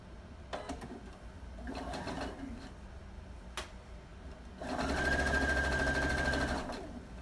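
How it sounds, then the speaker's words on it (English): A sewing machine topstitches across two fabric pieces for a scrappy Halloween pillow, running in short bursts before one longer steady whirring run, close and clear with no talk. "I'm going to just top stitch right here on both pieces"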